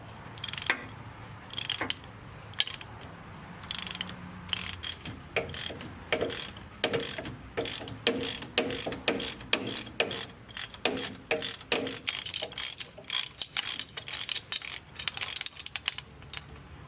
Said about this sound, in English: We're gonna take the back access cover off so we could actually check out the spindle nut